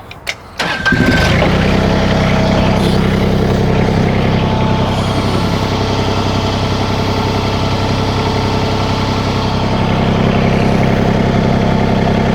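A tractor's diesel engine on a backhoe loader cranks briefly, catches, and settles into a steady, loud idle that continues for the rest of the clip.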